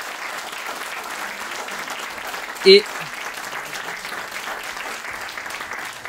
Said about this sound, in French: Vous pouvez les applaudir parce qu'on a beaucoup de chance.